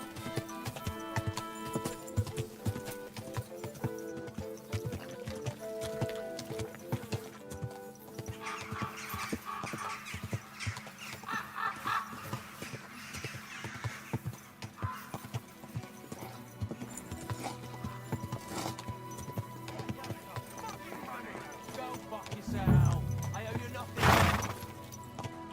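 Horse hooves clip-clop in a steady rhythm throughout a Kingdom Come Deliverance II game scene, mixed with game sounds and voices talking, with a louder burst near the end.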